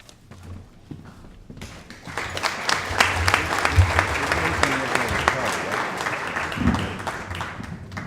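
Applause for a state representative at an Armed Forces Day ceremony begins after a quiet start and swells into a sustained crowd clapping, with a few thumps and some voices beneath.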